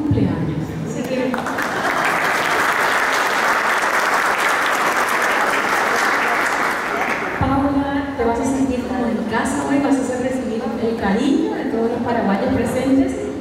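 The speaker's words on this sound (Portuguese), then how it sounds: "pido un aplauso especial porque hoy Paula está de cumpleaños" A large audience applauds steadily for a birthday at a tourism award launch event, a dense, even roar for about seven seconds that stops abruptly, followed by a speaking voice with faint background sounds.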